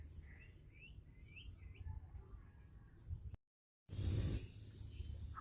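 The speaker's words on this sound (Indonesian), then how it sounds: "Burung-burung di sini lumayan banyak, termasuk burung sirpu, kutilang, ciblek," Garden birds chirp in short, faint bursts behind a house near rice fields, quiet tweets scattered over low background rumble, broken by a brief silent gap and a louder rustle.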